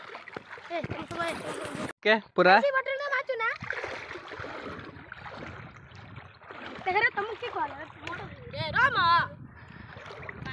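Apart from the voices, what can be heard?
camera being put into water, splashing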